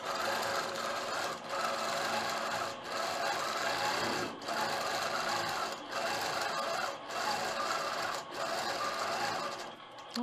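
Sewing machine stitching free-motion quilted feathers on a fabric panel, running in steady bursts of rapid needle clatter with brief pauses between passes, close and loud with no talking.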